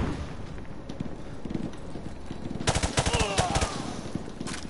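Rapid bursts of automatic gunfire from the Call of Duty Modern Warfare 2 Remastered video game, starting partway through as a dense, loud volley of shots over steady background game noise.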